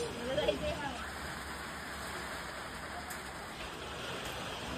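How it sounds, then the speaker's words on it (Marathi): Steady rain hisses softly and continuously, with a brief voice audible near the start. "एकदम जोरदार पाऊस येणार आहे"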